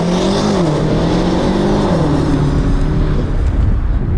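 A BMW X6 M accelerates hard from a standing launch on a track, engine note loud and close, rising steadily in pitch through a sustained pull with no talk over it.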